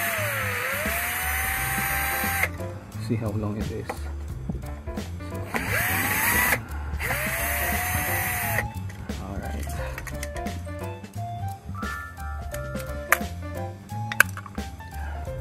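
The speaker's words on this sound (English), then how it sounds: "Much easier if you will use the drill." A power drill whirs in several sustained bursts, rising and falling in pitch as it drives screws while installing a Blink video doorbell, with someone talking between runs.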